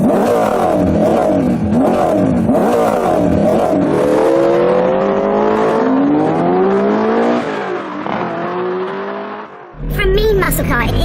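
A 6.6-litre V8 muscle car engine roars and revs loudly, pitch climbing and falling through throttle blips, with a voice talking over it near the end.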